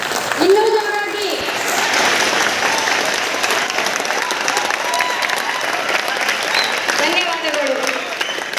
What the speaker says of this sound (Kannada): ದಯವಿಟ್ಟು ಎಲ್ಲರೂ ಎದ್ದು ನಿಂತು ನಮ್ಮ ಉಪಾಧ್ಯಾಯರಿಗೆ ಚಪ್ಪಾಳೆಯ ಮೂಲಕ ಧನ್ಯವಾದಗಳನ್ನು ತಿಳಿಸಲು ಹೇಳುತ್ತೇನೆ.